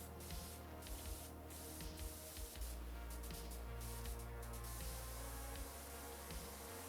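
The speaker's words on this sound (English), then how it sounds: "I'm going to go a little bit ADHD for a while and just start spraying around" A pressure washer sprays in the Powerwash Simulator 2 video game, a steady hissing stream running throughout with brief pauses and restarts.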